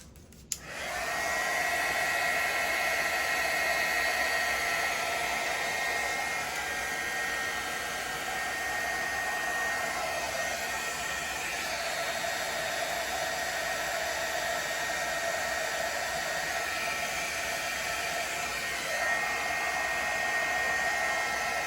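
A heat gun blows steadily for about twenty seconds while shrinking heat shrink tubing over a soldered wire joint, a close, continuous airy roar with no talk.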